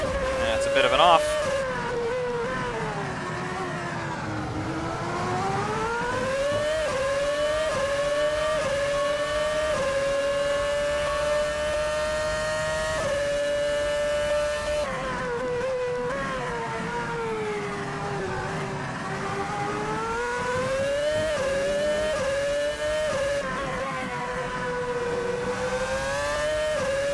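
A Formula 1 car's engine screams around Laguna Seca in Assetto Corsa, climbing in pitch on each acceleration and dropping sharply at shifts and braking, loud and continuous for the whole stretch.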